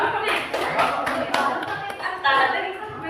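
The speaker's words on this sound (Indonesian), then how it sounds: "Tepuk tangan buat Naila." A group of participants clap in a classroom coaching session, a dense, fairly loud patter of hands lasting the whole moment, with some voices and room noise mixed in underneath.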